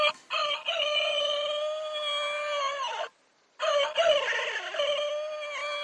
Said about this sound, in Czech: Kohoutíka. Pustíme ho.